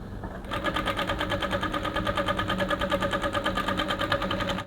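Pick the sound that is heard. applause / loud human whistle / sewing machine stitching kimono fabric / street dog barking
sewing machine stitching kimono fabric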